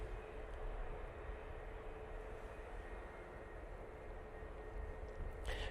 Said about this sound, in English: TUI 737 MAX 8 coming in. Oh, going out, I should say.